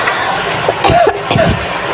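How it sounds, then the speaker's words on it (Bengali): A person gives a couple of short, dry coughs close up, with a brief pause between them. "কি যে কাশি হইছে, মানে কাশিটাই ভালো হয় না, খুসখুসানি কাশি"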